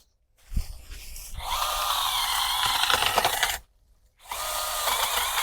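A cordless power saw cutting bamboo whirs loudly in a sustained buzzing run, stops briefly, then starts cutting again, with a sharp knock before it begins.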